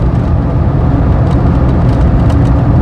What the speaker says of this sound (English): But this is a little tiny turbo, so it starts spooling very, very early.